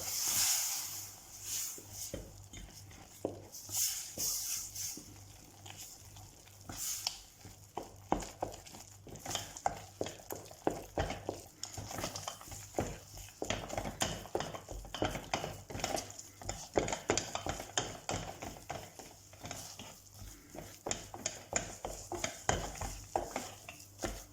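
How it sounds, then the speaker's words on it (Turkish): Flour is being stirred quickly into boiling water and butter in a pot to make profiterole choux dough, giving rapid, close scraping and thick sloshing strokes that quicken and continue steadily with no talking. "Bir su bardağı un ilave edelim ve çabuk çabuk karıştıralım."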